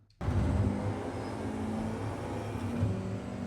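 F4 race car (FIA IR04) engine in iRacing at Rudskogen, a loud steady drone that starts abruptly and climbs through the gears, holding close and sustained with no talk.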